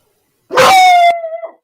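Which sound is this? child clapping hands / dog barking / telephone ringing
dog barking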